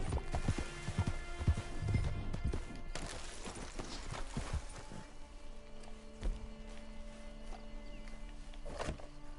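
Horse hooves clip-clop steadily in Red Dead Redemption 2, a rhythmic run of thuds over a busy game soundscape, fairly close and moderately loud.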